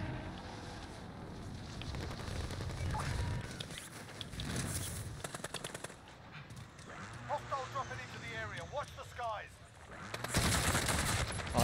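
Gunfire in the video game Call of Duty Warzone, with bursts of rapid shots and single cracks against steady game noise, while players talk over the action.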